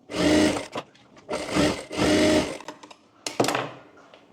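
Sewing machine stitching a katori blouse lining: three loud, close bursts of rapid mechanical whirring separated by short pauses, followed by brief clicks and handling noises.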